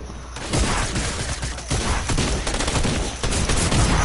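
Dense, sustained gunfire from a video game arena match, a continuous rattle of rapid shots with no gaps, loud and close, with no voice over it.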